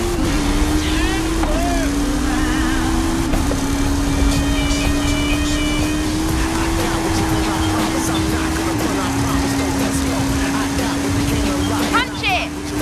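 The Hot Wheels Twin Mill car's engine drones loudly and evenly in Forza Horizon 5, holding a sustained pitch with small shifts as it speeds along, while excited voices talk over it.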